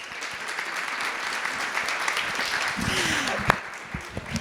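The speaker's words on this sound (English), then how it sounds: "Let's give them a round of applause." An audience at a live community panel interview applauds steadily with dense, even clapping. Moderately loud, it continues throughout with no voices on top.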